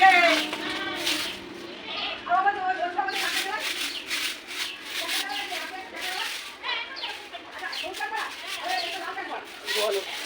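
Goats bleat in wavering cries through the clip, mixed with people talking nearby.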